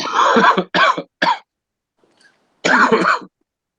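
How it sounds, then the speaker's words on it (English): Someone coughs in a rapid series of harsh, close bursts, then pauses and lets out one more longer cough. "I was coughing too"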